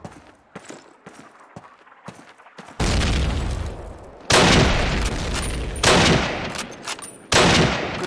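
In Call of Duty 1, a few faint, scattered gunshots give way to several loud, sharp bursts of rifle and machine-gun fire, each separated by brief pauses.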